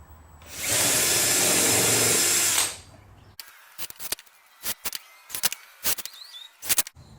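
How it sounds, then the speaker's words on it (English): A power screwdriver drives a screw into birdhouse wood in one steady whirring burst of about two seconds, followed by quieter clicks and handling knocks of the bits and boards. "I'm going to drive with my driver because I have one."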